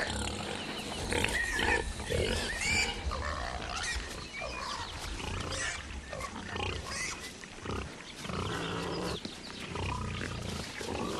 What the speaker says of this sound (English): Are those pigs drunk?